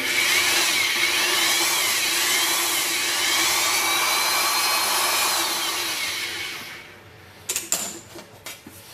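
A bead roller works a sheet of metal, giving a sustained droning whine with a wavering pitch that fades after about six seconds, followed by a few sharp metallic clanks.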